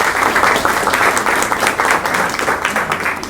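An audience welcomes a guest speaker at a theology conference with steady, loud applause: dense, continuous clapping from a crowd, sustained at close range for several seconds without any speech over it.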